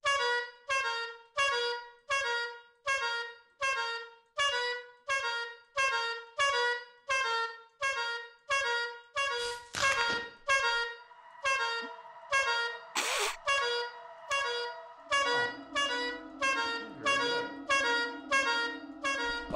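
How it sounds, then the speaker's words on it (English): A horn in the video game Lethal Company honks over and over in a steady, rapid rhythm of about two dozen loud blasts, then breaks into a longer sustained tone near the end. "Let me get 2 more honks out of it."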